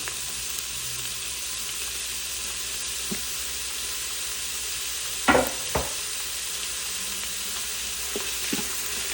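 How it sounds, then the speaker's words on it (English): Finely chopped onions frying in a pan, a steady hiss of sizzling oil with a few sharp spoon scrapes and clinks against the pan partway through. "let's go ahead and add in those finely chopped onions"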